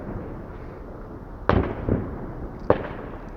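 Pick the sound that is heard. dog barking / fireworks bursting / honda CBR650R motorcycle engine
fireworks bursting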